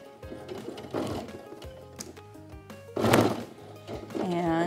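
A sewing machine stitches along the piping of a pillow cover, running in short bursts of whirring and thumping with pauses between, close by, while someone speaks over it.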